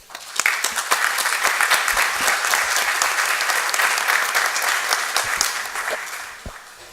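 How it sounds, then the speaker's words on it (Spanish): An auditorium audience at an international arbitration congress claps steadily for several seconds, dense and sustained applause that rises quickly, holds evenly, then tapers off with a few last claps. "doctor Juan Ramón Balcells Olivero, a quien recibimos con fuertes palmas"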